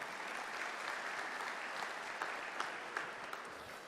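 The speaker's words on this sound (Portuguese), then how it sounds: "Ela merece uma salva de palmas nossa, né?" Steady crowd applause at a public management conference, a continuous wash of clapping heard from within the audience, moderately quiet and without speech.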